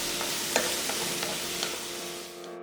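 Ham, garlic and pumpkin seeds sizzle and simmer steadily in a hot pan over medium-low heat as the sauce reduces, with a few soft scraping stirs, close up.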